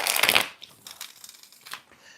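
A deck of tarot cards is shuffled in a crisp, loud riffle burst at the start, followed by quieter flicks and soft card handling.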